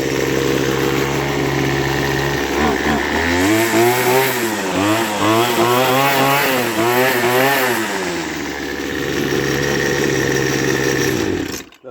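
A Poulan Pro weed eater starts up and runs: its small two-stroke engine idles, revs up through a few surging throttle pulls in the middle, then settles back to a steady idle, loud and close.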